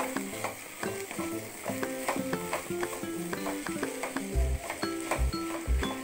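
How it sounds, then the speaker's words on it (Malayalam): Minced chicken with curry leaves is stirred in a pan, a steady sizzle under repeated scraping and clinking of a spoon against metal, with a few heavier thumps toward the end. "നമുക്കിതിലേക്ക് പൊടിച്ച് വെച്ച ചിക്കൻ ഇട്ട് കൊടുക്കാം കരിവേപ്പിലയും ഇട്ട് കൊടുത്ത് കരിവേപ്പില മുറിച്ചിട്ടിടണം നല്ല പോലെ ഇളക്കുക"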